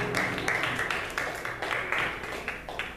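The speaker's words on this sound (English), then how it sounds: "Give them a hand clap" A church congregation claps at a Sunday morning service, a loose, moderately loud patter of many hands that keeps going throughout and fades slightly toward the end, with no voices on top.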